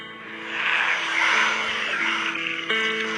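Game audio from the mobile game Last Fortress: Underground as a rescue vehicle is dispatched, a steady engine-like whoosh and hum with layered tonal effects swelling and then settling, continuous and fairly loud with no talking.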